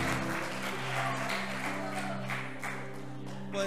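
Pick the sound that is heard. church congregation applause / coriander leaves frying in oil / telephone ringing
church congregation applause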